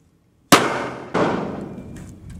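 Two sharp Rodenator blasts go off in a gopher burrow on a ranch, a loud sudden bang after silence followed about half a second later by a second explosive boom, each trailing into a rumbling decay.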